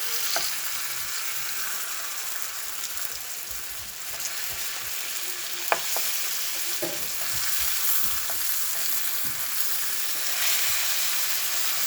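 White hake fish frying in a pan, a steady close sizzle and crackle of hot oil with occasional small pops and spatters, continuous and without any talk.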